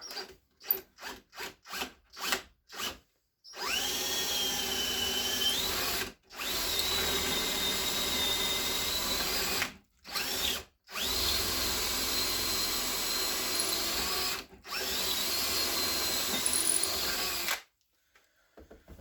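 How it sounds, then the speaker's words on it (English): A power drill bores pocket holes into wood up close, first in several quick bursts, then in long sustained runs with brief pauses between holes. "Drill another one."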